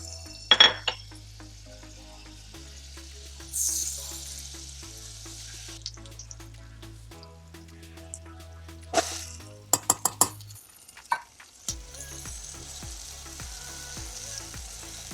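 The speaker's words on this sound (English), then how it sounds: "So I'm gonna fry my rice until it's golden brown." Rice frying in butter and avocado oil in a pot gives a steady sizzle, broken by a few sharp clinks and stirring scrapes partway through, with a low hum underneath and no voices.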